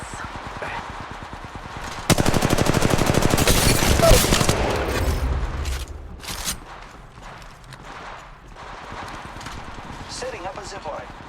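Gunfire in a video game shootout: a dense, rapid burst of automatic shots dominates the middle of the clip, with scattered cracks and game effects before and after.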